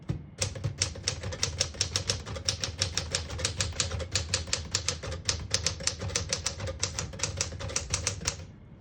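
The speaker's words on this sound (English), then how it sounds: "Very nice typewriter for daily typing." A 1964 Smith-Corona Sterling portable typewriter types steadily and close up, with a rapid, even run of crisp key strikes and no voices.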